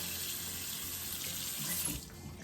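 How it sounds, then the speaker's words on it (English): Tap water pours steadily over a cast iron pan in a kitchen sink, a close, even rushing splash that shifts slightly in tone as the stream hits the metal, then softens at the end. "I'm gonna run some water over it."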